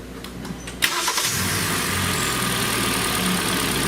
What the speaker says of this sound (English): the vehicle has been running a little bit